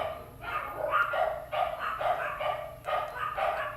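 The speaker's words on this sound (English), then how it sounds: "Oh, I don't know if you can hear my dogs barking." Several dogs bark repeatedly in the distance, a muffled, steady series of woofs heard through a room.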